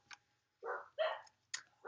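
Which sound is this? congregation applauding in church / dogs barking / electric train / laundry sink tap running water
dogs barking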